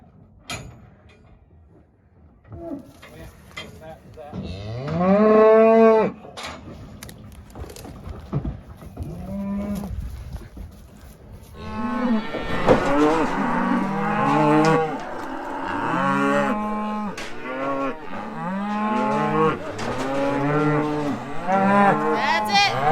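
Cattle on an Iowa farm moo repeatedly, several animals calling close by, with long, loud lowing that grows denser and overlaps in the second half.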